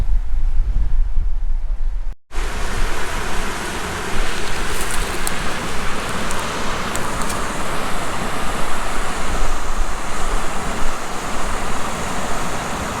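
At Jock's Bridge near Bishop Auckland, where the River Gauntless runs into the River Wear, river water rushes in a constant broadband wash, with wind buffeting the microphone early on before a momentary cutout.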